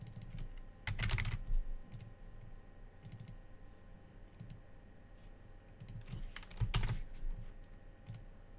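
Quiet clicking keystrokes on a computer keyboard come in irregular short bursts and single taps, with a couple of denser flurries, close and faint, with no talk.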